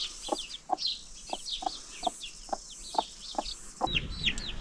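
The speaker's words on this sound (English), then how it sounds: "the chicken and the chicks that we put in the greenhouse in the rain the other day have made themselves at home in the entire garden" A hen and her chicks roam a garden, clucking in a steady run of short, evenly spaced calls close by, with higher chick peeps scattered over a soft outdoor background.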